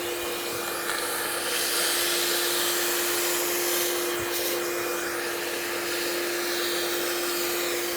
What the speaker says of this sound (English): I'm just going to take a vacuum and suck some of that out first.